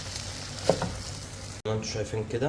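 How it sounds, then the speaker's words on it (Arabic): Rice sautéing in a pan with chicken and spices, a soft sizzle and stirring scrape under a voice speaking Arabic. "شوحنا الرز كده تشويحه مع الفراخ والبهارات"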